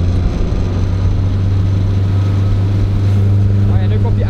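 A motorboat engine fitted with a new propeller holds a loud, steady low drone with strong harmonics, running hard without clear rises or drops, and voices may be faintly mixed in.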